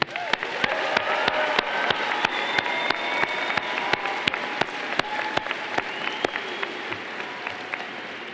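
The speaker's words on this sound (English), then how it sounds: "So let's give a big round of applause to this year's class of 2022." Sustained applause from a high school graduation audience for the class of 2022, a broad steady wash of clapping punctuated by sharp, regular nearby claps.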